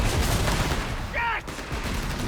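In a Company of Heroes 3 battle, machine guns open up on Panzergrenadier infantry in a short, loud, close burst of rattling fire, with a brief high whine cutting through midway.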